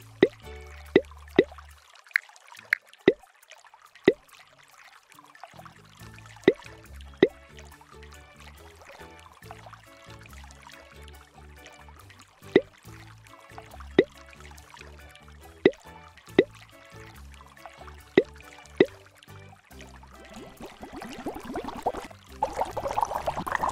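Water drips in the video game Team Hamster Splash Dash: sharp, isolated plops fall at irregular intervals over a quiet watery background, some in quick pairs, some after long gaps, with a swelling liquid rush near the end.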